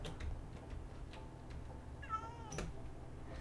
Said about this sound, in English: Let's have a meow to end it.